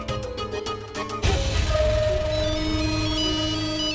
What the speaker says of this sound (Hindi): साहब मेरा फोन बज रहा है